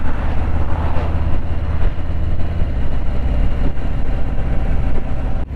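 Harley-Davidson Street Glide motorcycle engine running loud and close, a dense low rumble with rapid irregular pulsing and no clear rise in revs.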